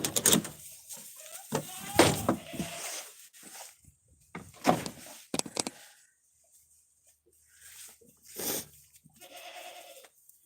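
Goats on a farm bleat during feeding, with several loud, close, wavering cries separated by pauses, alongside some rustling and knocking sounds.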